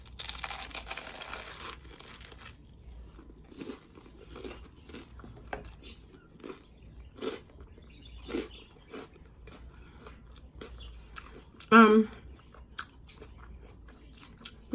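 Close, wet chewing and biting of avocado toast during a mukbang, soft crunches and smacks coming in an irregular rhythm with quiet gaps, and a brief vocal sound near the end.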